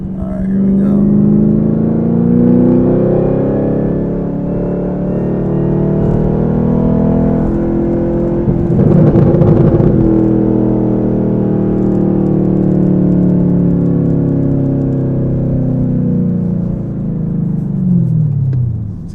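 A lowered Chevrolet ZL1 Camaro on Eibach springs drives down a smooth road and accelerates, its engine droning loud and steady with rising revs and a rough burst midway.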